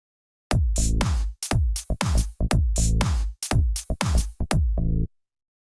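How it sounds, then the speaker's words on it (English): A punchy synthesizer bass line for a party dance track plays a choppy rhythmic pattern of short, deep, bright-edged notes with tight gaps and one lingering tail at the end, close, loud and solo. "And a bass on the synthesizer that goes like this."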